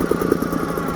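A 1973 Seagull 40 Plus outboard motor running steadily, a close, even chugging putter with fast regular pulses and no voices.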